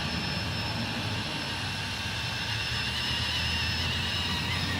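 A Blade 230s RC helicopter hovers at night with a steady, dense motor and rotor whine and a thin high tone running throughout, close and unbroken, with no speech.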